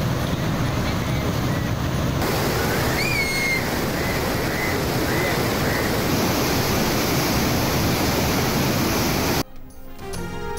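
Floodwater from the Chenab overflows the Palkhu drain near Wazirabad, a loud, unbroken roar of rushing water that fills the scene for about nine seconds before cutting off abruptly, with faint whistling tones over it.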